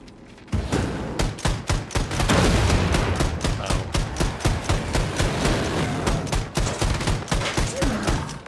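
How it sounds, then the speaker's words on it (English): Rapid shotgun blasts in the first-person shooter Wolfenstein II: The New Colossus, a loud, dense volley of repeated booming shots fired in quick succession at close range, with no speech over the gunfire. "Is it a shotgun or is it like a flak cannon?"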